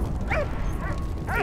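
Dog in the WWI game Valiant Hearts yipping and whimpering in a few short, bright bursts over a low rumbling game backdrop.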